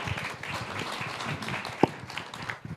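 An audience at an investor panel event applauds the moderator and panel, moderate scattered clapping from a modest crowd with a few sharper individual claps standing out.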